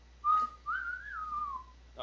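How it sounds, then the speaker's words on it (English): A person whistles nearby, giving a short clear note and then a longer gliding phrase that rises and falls before trailing off. "it's loud enough for we notice you're whistling without it being like ear painful."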